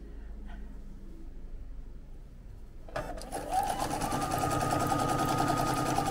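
Sewing machine starting up after a quiet moment and stitching down the center of a quilt block, a loud close steady whirring hum that builds and holds.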